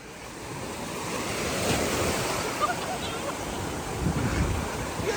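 Ocean surf rolling onto a beach at Murudeshwara, a steady broadband wash of breaking waves with wind noise buffeting the microphone, continuous and fairly loud throughout.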